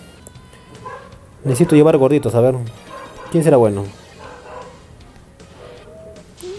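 Dogs bark and yip in short loud bursts close by, two clusters of barking breaking over someone talking in Spanish.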